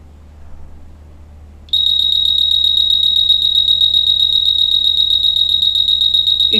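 A smoke detector circuit's buzzer starts after a short quiet moment and holds a loud, steady, piercing electronic alarm tone until the end, with a faint low hum underneath.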